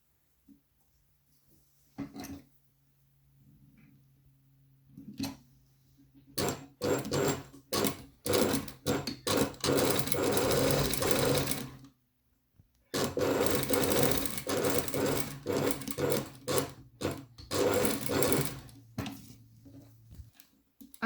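Sewing machine stitching a decorative topstitched hem on the flap and patch pocket of a garment, running in rapid bursts of several seconds separated by brief pauses, close and loud with no talk.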